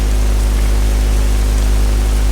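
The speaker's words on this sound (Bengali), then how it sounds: "প্রচুর বৃষ্টি হচ্ছে" Loud, constant video game rain noise with a heavy low hum underneath, steady and unbroken, with no talking.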